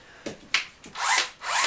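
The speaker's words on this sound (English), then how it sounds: "got the drill, screwdriver, and we'll get going" A power drill or screwdriver being used while stripping out the floor of a Ford Transit van, giving several short bursts of whirring and grinding, close and fairly loud, with no talking.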